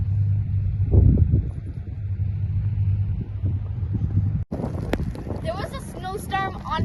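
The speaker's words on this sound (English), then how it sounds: "It was a really bad snowstorm and it snowed so much." Wind from a heavy snowstorm buffets the microphone in a continuous low, rumbling roar, and partway through a person starts talking over it.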